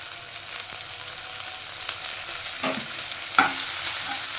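Ginger-garlic paste and masala fry in a pan with a steady hissing sizzle, broken by a few brief scraping stirs.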